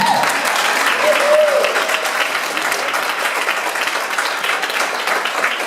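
Sustained applause from a crowd at a Green Party meet and greet, loud and steady throughout, with a brief voice rising over the clapping near the start.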